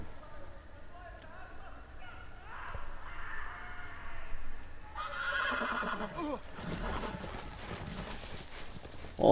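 A horse in a Game of Thrones video game neighs and its hooves clip-clop, moderately loud against background noise, with a person talking over parts of it.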